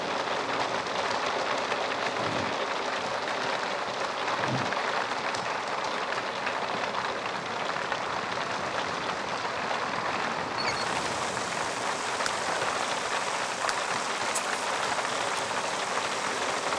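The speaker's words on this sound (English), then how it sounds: "it's raining in the same street" Steady rain falling on a street in The Sims 3 game, a dense continuous wash of patter with no pauses that shifts tone partway through, loud and even throughout, with no voices.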